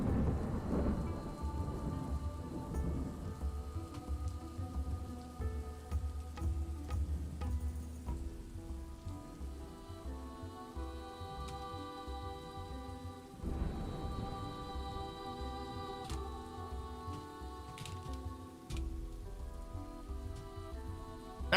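Steady rain hisses throughout the Dwarf Fortress video game, with deep rolling thunder at the start and again midway, under soft tonal game music and chimes.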